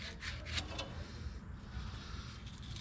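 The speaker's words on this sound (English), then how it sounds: "Clean some of the corrosion off of these lines with a little sandpaper here." Sandpaper scrubbing corrosion off the brake lines of a vintage Ford F truck, a faint, quick rasping rub repeated in short strokes, with no voices.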